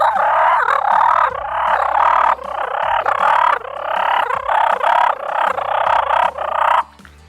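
Turkey fighting purr made on a mouth call, imitating several turkeys brawling: loud, close bursts of raspy, rolling purrs and clucks in fast uneven sequence, stopping abruptly near the end, with no talking over it.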